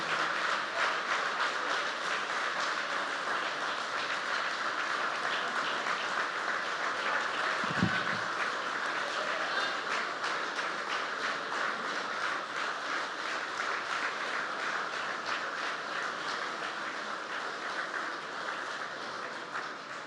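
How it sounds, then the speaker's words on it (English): A large audience applauds Andrew Young at a public event, with steady, dense clapping that holds at an even level for about twenty seconds and no talking over it. "Give him a big round of applause"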